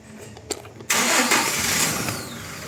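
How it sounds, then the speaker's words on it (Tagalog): Close by, a few clicks as the starter cranks, then a Toyota Hilux pickup truck engine catches and settles into a loud, steady idle. "Start makina."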